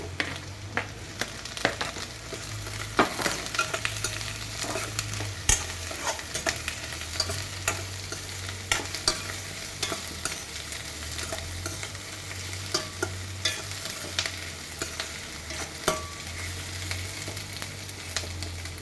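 Capsicum stir-frying in oil in a pan for paneer pepper dry, with steady sizzling throughout and frequent spatula scrapes and stirs over a low burner hum, close and with no voices.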